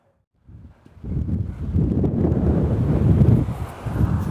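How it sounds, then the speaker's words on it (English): Strong wind gusting across an open golf course, a loud, rough roar buffeting the microphone and swelling after a brief quiet start, with no voices. "there's this wind is blowing"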